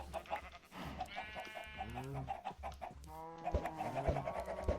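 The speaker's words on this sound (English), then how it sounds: "Hacking chickens." Several chickens in a farming video game cluck and squawk repeatedly over a low rhythmic background hum, with a few soft thuds, moderately quiet.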